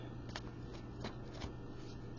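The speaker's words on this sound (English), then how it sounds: "They're hard to shuffle." Large oracle cards being shuffled by hand, a few soft papery riffles and slides at close range, fairly quiet, with no talking.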